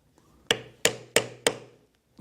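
Four sharp, evenly spaced metallic taps ring out close and clear as parts of a steampunk-style full corset are riveted together, each strike decaying quickly into quiet.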